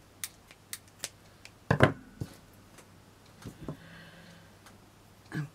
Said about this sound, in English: Cut that down now.